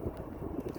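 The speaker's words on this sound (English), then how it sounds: "it's really windy right now" Steady outdoor wind buffeting a microphone, a low continuous rumbling roar with no speech, brief and close.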